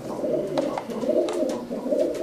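A racing pigeon coos continuously in a low, rolling burble, fairly close and unbroken, with a few faint clicks over it and no voices.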